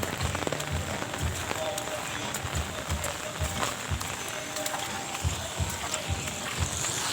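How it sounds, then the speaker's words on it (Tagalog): Steady rain patters on surfaces in an outdoor setting, a dense continuous wash with scattered louder drips and taps, with faint voices and music in the background. "Ulan na nga."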